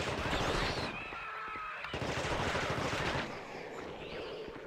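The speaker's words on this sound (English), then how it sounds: "Oh, maybe we shot the light." Gunfire in The Thing video game shoots out a light, a dense burst of loud, rapid shots and crashing noise that stops abruptly, then resumes more quietly.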